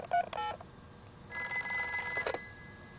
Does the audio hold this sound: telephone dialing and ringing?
yes